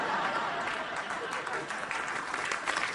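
A television talk show studio audience claps steadily for about three seconds, a dense, even wash of applause that stays moderately loud throughout.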